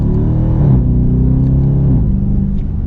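Dodge Charger R/T with the 6.4 Hemi V8 accelerating in manual mode, its deep, loud rumble rising in pitch, dipping at a gear change, then climbing again, steady and close with no talk.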